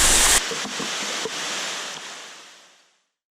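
Steady rushing water of a waterfall inside a cenote roars loudly at first, then continues as a softer broadband wash that gradually fades away to silence.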